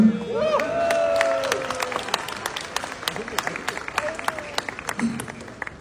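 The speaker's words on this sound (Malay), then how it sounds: "Beri tepukan." Guests at a wedding reception give a moderate round of applause, steady clapping spread across the room with chatter and a few voices rising above it, thinning out toward the end.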